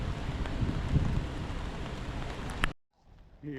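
Steady rain falls in Chester on a wet August day, a dense broadband hiss at moderate loudness that runs for nearly three seconds before abruptly dropping to near quiet.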